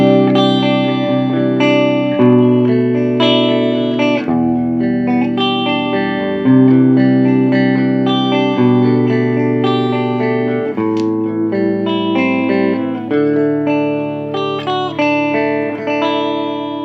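A clean electric guitar tone straight from the amp, without effects, rings out chords and arpeggiated notes, loud and close, notes sustaining and blending, with no talking.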